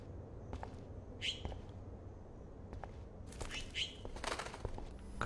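Small bird in the video game Life is Strange chirping in a few short, bright bursts over a steady low in-game ambience, faint and somewhat distant.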